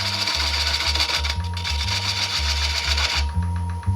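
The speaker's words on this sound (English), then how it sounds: "I'm going to take the spindle gouge and very carefully turn off the tenon." A spindle gouge turns the tenon off a lacquered wooden bowl on a wood lathe with the tailstock brought up for support, a continuous close whirring hum with a pulsing low rumble and light cutting hiss throughout.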